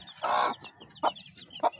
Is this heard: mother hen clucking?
yes